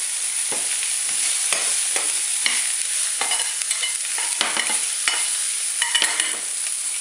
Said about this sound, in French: Je remue un peu.